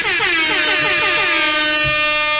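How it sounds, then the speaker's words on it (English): A loud, sustained air horn blast with a bright, brassy tone, holding steady for a couple of seconds. "I should hoy in a, young air horn there"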